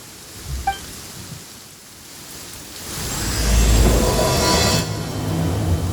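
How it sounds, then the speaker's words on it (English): Genshin Impact game rain: a steady hiss that swells to a heavier downpour, with a low rumble underneath and a brief chime near the start. "I like that it's raining"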